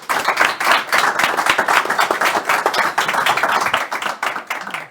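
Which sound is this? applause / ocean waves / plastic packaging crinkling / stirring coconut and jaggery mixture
applause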